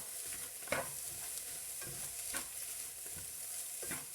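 Frozen mince for chili con carne fries in a pan under a soft, steady sizzle, with a spoon stirring and scraping in a few distinct strokes, fairly quiet overall.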